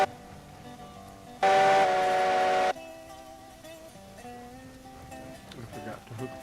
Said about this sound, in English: I'm gonna grab this locomotive here. And I want you to pull out onto the main line.